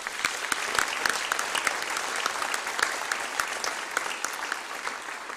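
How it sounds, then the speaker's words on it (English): Audience applause at a National Honor Society induction ceremony, dense sustained clapping from a large indoor crowd with sharp individual claps standing out, continuing steadily throughout. "Please join me in thanking them with a round of applause."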